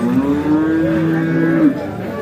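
A single cow gives a drawn-out low moo at a busy livestock market, heard close and clear over faint background chatter.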